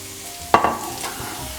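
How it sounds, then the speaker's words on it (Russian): Onion and minced beef fry in a pan, with a sharp clatter as the food is stirred, then a soft, steady sizzle underneath. "Посолим и дожидаемся, пока это все вместе хорошенько обжарится."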